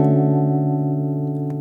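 A guitar chord played through a Leslie rotating-speaker effect with reverb at zero sounds dry and sustained, a steady harmonic tone that fades slightly with no room echo.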